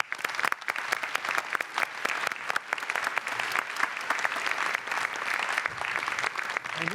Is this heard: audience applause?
yes